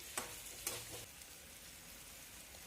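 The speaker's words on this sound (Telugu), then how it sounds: "బాగా వేయించుకోవాలండి." Onions, green chilies and tomatoes fry in oil with a faint, steady sizzle, broken by a few soft clinks of a utensil against the pan, quiet and without talk.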